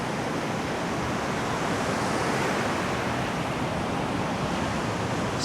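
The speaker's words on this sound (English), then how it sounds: "imagine you're in a strong wind, which I am in right now" Strong wind blowing on a beach by the sea, a continuous dense roar of rushing air and surf noise buffeting the microphone, steady and loud throughout with no voices.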